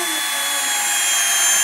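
A power drill boring holes into beads at a Cub Scout meeting in a firehouse, a steady high whine running continuously without pause.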